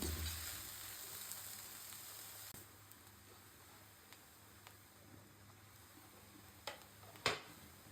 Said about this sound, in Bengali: পেঁয়াজ দিয়ে দেবো কমপ্লিট করে আমি ভেজে নিই